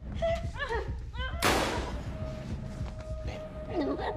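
A single sharp pistol shot bursts out in a film scene, loud and sudden, amid dramatic music and background sound, with a voice talking before and after it.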